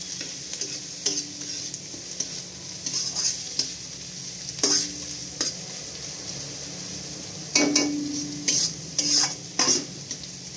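Flattened rice poha with chopped green chilies and carrots is stir-fried in a pan, a spatula scraping and clinking against metal in irregular bursts over a low, continuous sizzle, with no voices.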